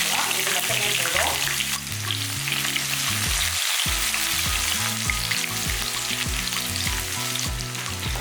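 Shallots and curry leaves fry in hot oil for a Tamil chicken kola urundai kuzhambu, giving a loud, steady crackling sizzle throughout, with a tuneful backing underneath.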